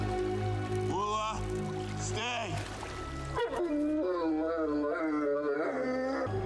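A dog in the film John Carter howls in long wavering cries that rise and fall, with whimpers mixed in over a steady background wash and some distant voices.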